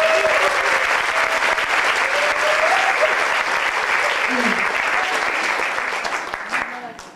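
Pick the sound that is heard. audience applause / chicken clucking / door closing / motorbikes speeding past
audience applause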